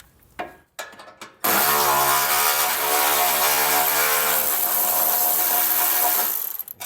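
A power tool spins up after a few short clicks, whirring loudly and steadily for about five seconds on a 13mm bolt holding a hitch shield, then stops; close, with no talking.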